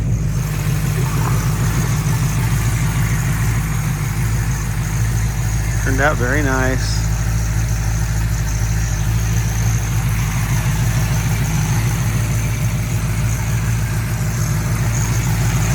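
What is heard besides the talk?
1970 Dodge Challenger convertible engine idling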